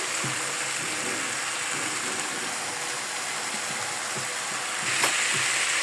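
Spice paste with tomato cooking in oil in a pan, giving a steady close sizzle with faint scraping stirs, and a brighter hiss swelling near the end, no speech.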